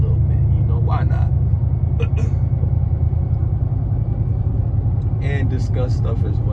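A Chevy car drives before dawn, its engine and road rumble a constant low drone inside the cabin while a person talks over it.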